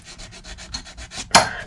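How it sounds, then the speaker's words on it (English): Ostrich leg leather on a boot is rubbed by hand with sandpaper in a steady series of short, even scrubbing strokes, close and clear, ending with one louder, sharper rasp. "during the sanding process, we're going to be removing a little bit of the color, and this is why we do it by hand"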